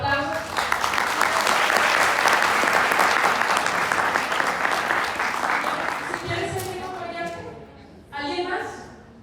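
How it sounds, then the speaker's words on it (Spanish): Loud, dense applause from a conference audience at a university innovation talk, sustained for about six seconds before tapering off, then a voice starts speaking. "Aplausos."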